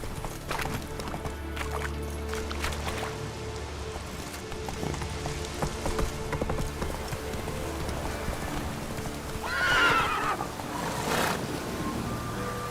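Geralt's horse Roach in The Witcher 3 gallops with steady clip-clop hoofbeats under a busy game soundscape, with a short whinny rising near the end.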